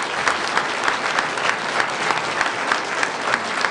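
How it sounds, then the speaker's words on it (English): A crowd claps steadily and loudly for a discussion panel at a live event, a dense, continuous wash of applause without a break. "Give everybody a round of applause."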